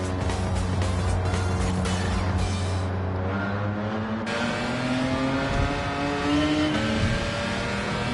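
Toyota 2000GT with its Yamaha engine in Gran Turismo 7, the engine revving up and through gear changes, loud and close, with a steady rising drone.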